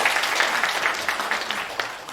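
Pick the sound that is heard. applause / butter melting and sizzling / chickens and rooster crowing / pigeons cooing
applause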